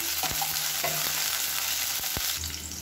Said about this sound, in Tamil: மீடியமான ஃப்ளேமில் இது வந்து கொஞ்சம் பொரியட்டும்